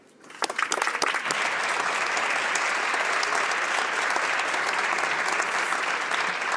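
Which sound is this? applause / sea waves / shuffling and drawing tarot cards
applause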